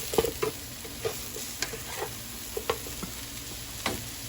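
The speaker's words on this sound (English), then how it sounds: "start to saute the onion mushrooms" Onions and mushrooms sauteing in a pan for chicken marsala, heard as a soft, quiet sizzle broken by repeated clicks and scrapes of a utensil stirring, with no talking.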